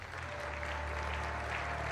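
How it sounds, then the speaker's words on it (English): Dense, steady clapping from an audience, a continuous wash of applause with no break. "A round of applause, please."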